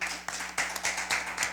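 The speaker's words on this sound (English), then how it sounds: "Give him a round of applause, please." Applause from the audience at a junior science quiz in Antigua and Barbuda, a short burst of fairly faint, sparse hand claps with distinct individual slaps rather than a dense roar.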